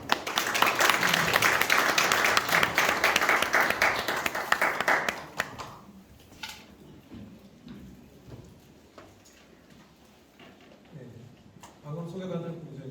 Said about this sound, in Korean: 나오실 때 큰 박수로 저희 환영하는 시간을 갖도록 하겠습니다